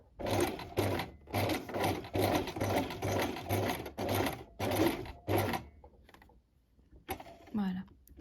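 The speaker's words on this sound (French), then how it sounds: "Et donc vous continuez après à coudre jusque la fin de votre zip." Domestic sewing machine stitching an invisible zip into a pair of shorts, running in a string of rapid whirring bursts with brief pauses, then stopping, followed by a short moment of quiet and faint handling noise.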